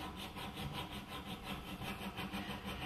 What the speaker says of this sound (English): Try and keep the needle file square to the work.